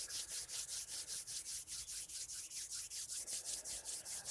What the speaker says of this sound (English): maybe rub your hands together